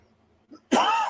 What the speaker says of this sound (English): This cough is not one to go away.